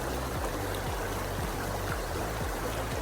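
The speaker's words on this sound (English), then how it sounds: "We found the creek." Creek water flows steadily beside a campsite, a continuous close rushing and trickling wash with low burbling under it, no voices.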